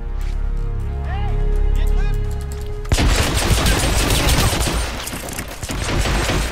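Gunfire in Hitman Absolution erupts suddenly after a quieter stretch, a loud, dense burst of rapid shots that continues to the end, with voices heard in the scene.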